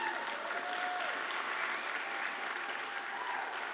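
Audience applause at a downtown Fresno civic address, warm steady clapping from a large room that holds evenly for several seconds with a few faint voices underneath.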